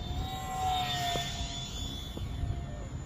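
A J35 brushless electric ducted-fan RC jet in flight gives a steady, high-pitched whine and whoosh that swells and fades as it passes during tight turns, heard outdoors at moderate distance with no talking.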